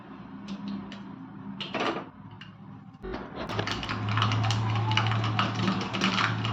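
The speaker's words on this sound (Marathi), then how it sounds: "मोहरी तडतडली आता गॅस बंद करते" Mustard seeds spluttering in hot oil for a tempering, a dense run of quick crackling pops that starts sparse and builds to a steady, close patter over a low gas-flame hum.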